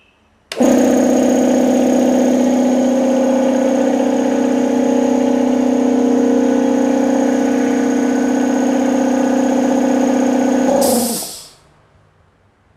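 A JEMAR belt-and-rotary hybrid air compressor starts abruptly and runs loud and close with a steady hum and whine for about ten seconds, then winds down quickly to silence.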